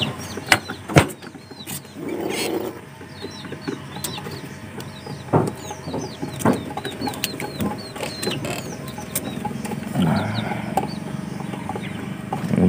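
A tame pigeon in a moulting state, with soft wing flutters and faint cooing and clucking, close by, over a background of distant birdsong and occasional knocks.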